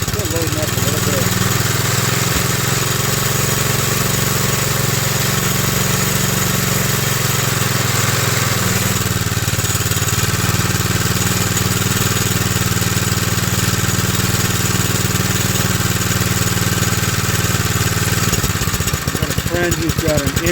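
A 1960 Tote Gote minibike's small engine runs steadily after a carburetor rebuild, a constant buzzing drone that stays loud and even, with a brief change near the end.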